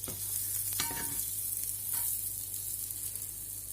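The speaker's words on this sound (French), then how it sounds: "on va retourner le steak, voir un peu comment il est" A steak frying in a pan gives a steady, loud sizzle throughout, with a brief scrape and clatter early on as the meat is turned, and a low hum underneath.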